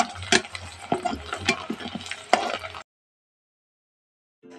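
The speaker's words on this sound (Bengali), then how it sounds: "তো এবার এই তেলের মধ্যে আমি ছোলা ডালগুলো ভেজে নেব।" Chana dal frying in oil over low heat, a close broadband crackle with stirring clatter for under three seconds, then silence and a faint return at the end.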